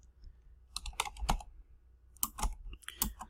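Python code being typed on a computer keyboard: quick bursts of close, crisp keystrokes in two clusters separated by a brief pause, with no voices.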